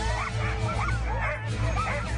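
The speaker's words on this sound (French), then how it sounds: "ces dizaines et dizaines de chiens qui sont au départ" A dense chorus of sled dogs yelps and barks at the start line of a Savoie Mont Blanc sled-dog race, loud excited cries overlapping nonstop over a low rumble.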